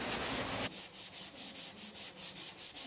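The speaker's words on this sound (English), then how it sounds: "Now it's time to start the very arduous task of sanding" Steady rhythmic rubbing of a longboard hand-sanding boat fairing, long even strokes back and forth, about eleven passes at a regular pace, close and alone.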